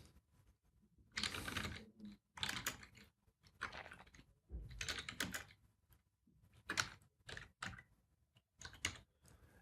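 Typing on a computer keyboard during a Photoshop lesson, quick bursts of close, crisp key clicks separated by short pauses, fairly quiet with no voice.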